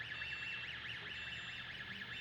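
A Lift Hero CPD30 6,000 lb electric forklift sounds its alarm, a steady warbling electronic tone that sweeps up and down in a rapid, continuous cycle, faint against background hiss.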